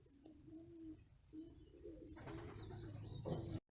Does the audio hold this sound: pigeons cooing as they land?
yes